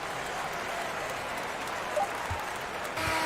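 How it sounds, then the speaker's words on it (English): Crowd applause fills an arena at a Los Angeles Clippers NBA basketball game at the close of a quarter, a steady wash of clapping and cheering that swells slightly near the end. "please give a big round of applause for your Clippers Youth Dance Team"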